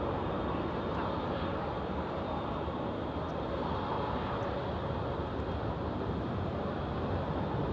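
Singapore Airlines aircraft taxiing past at Manchester Airport, a faint, steady, distant jet rumble and hiss without clear peaks, no voices.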